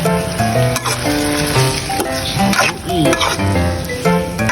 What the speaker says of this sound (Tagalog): Igisa lang natin siya sa kamatis.